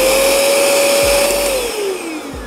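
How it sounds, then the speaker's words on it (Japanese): A wet vacuum used to wash car seats, spraying water and sucking it back up, runs with a steady loud drone and a whining tone that dips near the end, with a few soft low thumps underneath. "こんな感じ、掃除機で吸い込んでくれる感じですね。"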